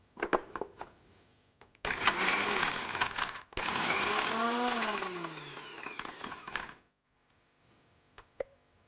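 An electric mixer grinder (mixie) whirs loudly in short runs, a brief burst then a longer sustained grind with a pitch that rises and falls, stopping abruptly into near silence with faint clicks.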